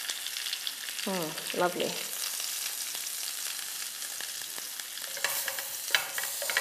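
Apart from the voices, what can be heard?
lamb chops spluttering and sizzling in baking pan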